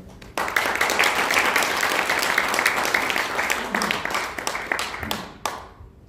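An audience at the launch rally of a Korean political alliance breaks into dense, sustained applause welcoming a speaker, holding loud for several seconds before thinning out and fading.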